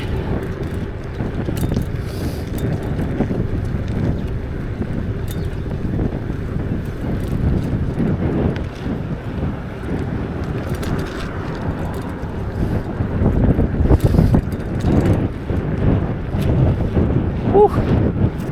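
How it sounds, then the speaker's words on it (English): Strong wind roars steadily across the microphone during a ride, a loud broadband rumble that gusts harder toward the end, with occasional speech over it. "This wind very powerful."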